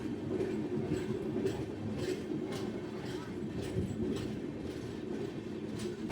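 An Indian general-class passenger train rolls along rails on the Puri to Chennai route, heard from inside the coach as a steady low rumble with regular clickety-clack wheel beats and a constant background of carriage noise and voices.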